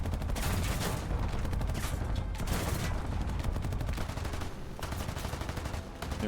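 Bomber turret gunners in War Thunder fire machine guns in long, rapid bursts, a dense rattling of gunfire that runs almost without pause with brief gaps between volleys.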